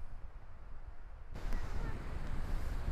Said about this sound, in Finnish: Tosi valtava tuuli.